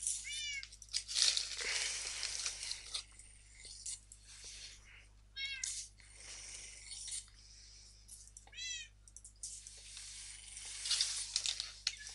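Cat meows from the video game Minecraft repeat at intervals, several short rising calls over a soft hiss of gameplay sounds, with no clear talk.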